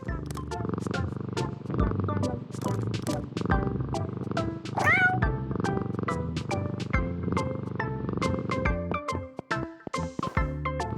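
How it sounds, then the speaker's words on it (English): Cartoonish cats meow and purr in a cat care video game, with repeated short meows over a steady backing of game music and sound effects. "Meow! Some more cats want to play."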